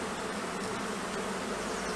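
Honey bees hum steadily and continuously in a hive, a dense close buzzing with no voices over it.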